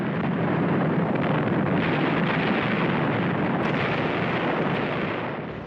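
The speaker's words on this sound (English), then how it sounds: "The largest invasion fleet since the Second World War bombards the port of Incheon." Naval bombardment of the port of Incheon by a huge invasion fleet at dawn in 1950, heard as a loud, continuous roar of distant heavy guns and explosions blending into a rumbling wash.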